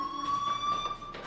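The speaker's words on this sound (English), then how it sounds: "Do you hear that fire alarm?" Fire alarm ringing in the Life is Strange video game, a steady electronic tone held across the clip at moderate level, with faint game background noise underneath.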